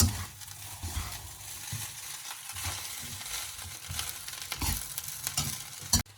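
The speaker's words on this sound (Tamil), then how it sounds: "அடுத்ததா நாங்கள் கேரட்டை மிக்ஸ் பண்ணுவோம்." Carrots stirred into Sri Lankan chicken fried rice in a hot pan: steady broadband sizzling with repeated scraping strokes of the spoon, a sharp clack near the end, close and fairly loud, no talking.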